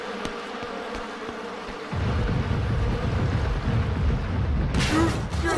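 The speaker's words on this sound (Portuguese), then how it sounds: "os zangões não estão formando enxame. Deve estar voltando para a colmeia" Cartoon drone bees buzz as they head back to their hive, a low droning hum that swells in loudly and stays steady, with a brief higher whoosh near the end.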